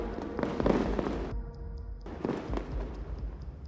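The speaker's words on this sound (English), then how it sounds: "Bradley followed up with its 25mm chain gun, firing relentlessly" Rapid bursts of 25mm chain gun fire from a Bradley fighting vehicle in close combat, loud repeated cracks over a dense rumbling battle din, cut by a brief quieter gap before the firing resumes.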